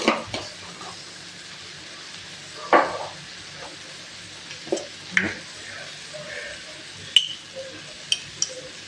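Coriander powder heating in hot oil in a pan, a soft steady sizzle with occasional spoon clinks and scrapes, fairly quiet and close, no voices over it.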